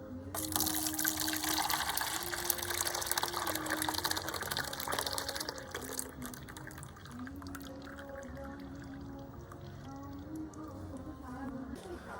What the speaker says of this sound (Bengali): দুধটাকে আমি একটু উপর থেকে ঢেলে দেব যাতে ফেনা তৈরি হয়